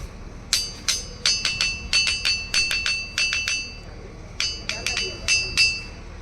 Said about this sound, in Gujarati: આ પથ્થર ઉપર આપણે મારીએ ને એટલે ઝાલર જેવો અવાજ આવે